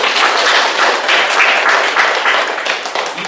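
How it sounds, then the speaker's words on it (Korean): An audience in a public-speaking class claps steadily, a dense, fairly loud burst of applause filling the short stretch without pause. "그 점에 대해서 다시 한번 박수 보내주시기 바랍니다."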